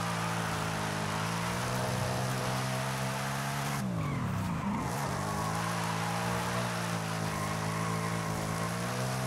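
Tires squeal as a car drifts along a road in Forza Horizon 5, played on a MOZA R9 wheel, a steady loud engine drone with a sustained screech that bends and swoops in the middle of the drift.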